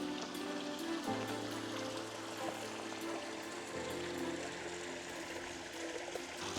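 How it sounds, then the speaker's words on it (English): Inside a cave in Baza, Spain, a waterfall pours steadily into a pool, making a continuous soft rushing and splashing wash of water that stays fairly quiet and even throughout. "just how peaceful it is with the waterfall going into the pool like that"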